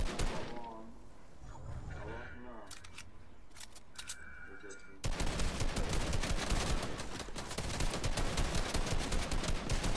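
Gunfire in the video game Fortnite: after a stretch of scattered clicks and game effects, a dense, loud burst of rapid automatic shots runs steadily to the end, with a voice talking over it.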